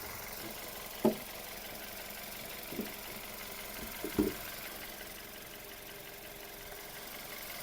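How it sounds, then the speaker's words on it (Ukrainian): Skoda Fabia II engine idling steadily and quietly at close range, a faint even hum with a few brief knocks and clicks scattered over nearly eight seconds. "Робота двигуна."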